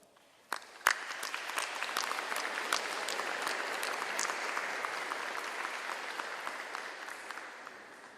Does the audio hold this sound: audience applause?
yes